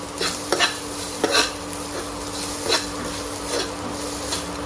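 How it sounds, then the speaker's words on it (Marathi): Grated coconut is briefly sautéed with whole spices in a pan for pea pattice filling: a soft frying hiss broken by repeated scraping stirs of a spoon against the pan, close by and with no talking. "हे खोबरं घातल्यावर आपल्याला जास्त परतायचं नाही आहे अगदी थोडंसंच परतून घ्यायचं आहे"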